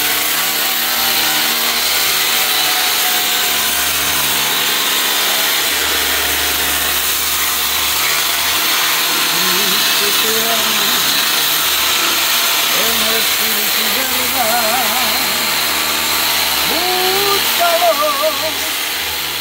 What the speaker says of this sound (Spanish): Para la pulidora